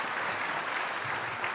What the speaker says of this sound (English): I'm going to get you to clap for them too